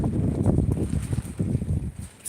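Strong, cold wind gusts roar and buffet the microphone in Salerno, a continuous rumbling rush filling the whole stretch with no talking.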